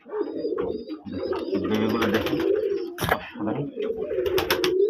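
A female native pigeon at a pigeon farm in Manikganj coos close by in repeated rolling, throaty phrases, with brief rustling bursts between them.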